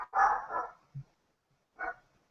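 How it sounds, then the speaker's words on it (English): A dog barks a few times in short, separate bursts, fairly close, with quiet gaps between the barks. "my dog's barking"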